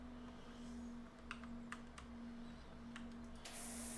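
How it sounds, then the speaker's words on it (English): Keyboard keys and mouse clicks tapping during a computer game, a few quiet, scattered clicks over a steady low hum, with no talking. "I'm playing on keyboard and mouse"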